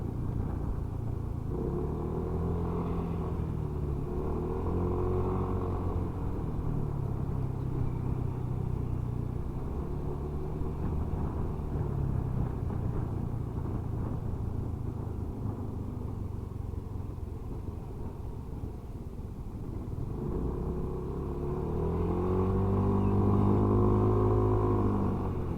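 A Yamaha T-Max scooter rides along a road near Fuengirola, its engine giving a steady low drone that rises with acceleration at the start and again near the end, heard continuously without talk.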